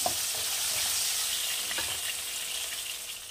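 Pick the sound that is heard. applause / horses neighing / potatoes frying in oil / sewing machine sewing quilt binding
potatoes frying in oil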